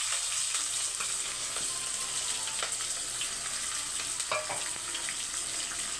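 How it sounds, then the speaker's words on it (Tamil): Two large onions with green chillies and curry leaves sautéing in a pan for Karnataka-style tomato rice, giving a steady close sizzle with occasional scrape and stir clicks throughout, no talking. "இப்போ வெங்காயம் வதங்கட்டும்"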